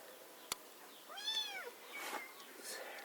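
A kitten gives a single clear, rising-then-falling meow after a sharp click, followed by fainter rustling and a soft second call in a quiet outdoor chicken pen setting.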